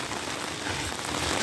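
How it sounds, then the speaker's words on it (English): Steady rain pours down during Hurricane Helene in Georgia, a dense, even hiss of drops hitting surfaces heard close and loud with no voices. "I start to record the rain because I like do those videos too."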